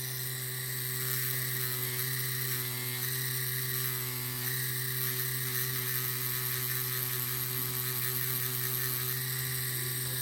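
A Peak Matrix tattoo machine runs at 7.5 volts with a steady, fast, high-pitched motor whir and buzz. It holds an even level close up, with no talk.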